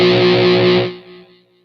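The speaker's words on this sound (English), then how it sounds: "that was the sound of the Strat" A Stratocaster electric guitar played through distortion rings out loud with a thick sustained chord, then cuts off and decays to near silence after about one second.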